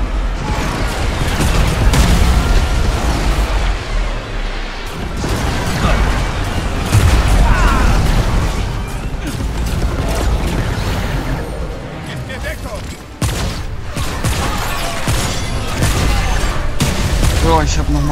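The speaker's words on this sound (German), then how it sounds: "So, ich habe nochmal reingeballert." Gunfire in the co-op shooter Remnant from the Ashes, a dense, continuous barrage of shots and booms over a loud game soundtrack, with players talking throughout.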